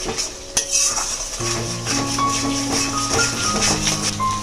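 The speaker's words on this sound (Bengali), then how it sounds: "এবার ভালোভাবে কষিয়ে যেতে হবে টমেটোটা যতক্ষণ না গলবে আর আর মশলা থেকে ভালোভাবে তেলটা যতক্ষণ না ছাড়বে" Tomato and spices fry in oil for a catla fish curry while a utensil stirs against the pan, giving close metallic scrapes and clinks over a soft sizzle.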